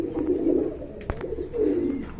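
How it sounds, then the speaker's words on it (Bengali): A pair of Mili Huma pigeons coo in two soft, rolling bouts, low and close, separated by a brief pause with a sharper sound in the middle. "আর এখানে রয়েছে এক জোড়া মিলিহুমা কবুতর"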